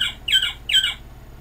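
An animal alphabet toy plays a recorded quail call: three short, bright chirping squawks in a quick even rhythm, close and clear with no talking.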